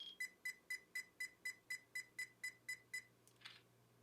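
Pentax WG-8 camera counting down its 3-second remote shutter delay: about a dozen short, evenly spaced electronic beeps in quick succession, ending in a brief soft shutter click.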